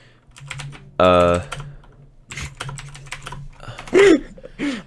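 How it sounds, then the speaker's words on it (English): Rapid clicky keystrokes from a mechanical keyboard rattle along close by, broken by brief loud bursts and a voice talking over parts of it. "I forgot how clicky my fucking keyboard is"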